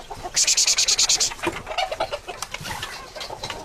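Farm poultry, turkeys and chickens, feed and peck close by, with a quick run of sharp rhythmic pecking taps followed by scattered clucks and scratchy movement.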